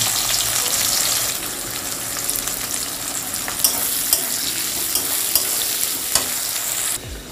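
Onions go into hot oil in a home kitchen and sizzle steadily and loudly, with occasional clinks of a stirring spoon against the pan and a sharp clatter near the end.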